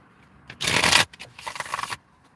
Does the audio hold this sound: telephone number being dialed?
no